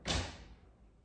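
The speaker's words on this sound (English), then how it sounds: "Close the door." A door closes with a single sharp slam and thud, loud and close, followed by a short fading ring-out.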